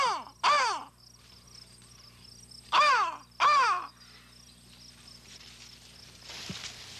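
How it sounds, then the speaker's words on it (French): Crows in a corn field give three loud, harsh caws close by, one early and two in quick succession later, over a steady background of insect trilling, with a faint thump near the end. "ça devait être une corneille que j'ai entendue"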